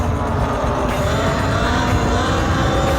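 A Talaria Sting R electric dirt bike being ridden, a steady rough broadband rush of motor whine, wind and tire noise that stays loud and close throughout with no pauses.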